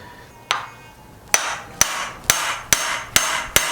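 A hammer taps a Specialized EMT hidden chain tool into place on a bicycle held in a repair stand: seven sharp metallic strikes, one alone, then six in a fairly even rhythm, close and clear with no talking.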